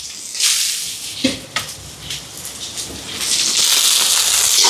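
Shallots, curry leaves and green chilies frying for a curry, a steady bright sizzle with a few sharp spits and crackles that swells louder toward the end, with no voices.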